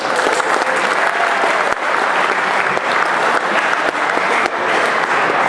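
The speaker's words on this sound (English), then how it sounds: "you should give each other a round of applause" A dealership staff meeting breaks into loud, steady applause from a roomful of people. The sustained clapping carries on without a break and with no talk over it.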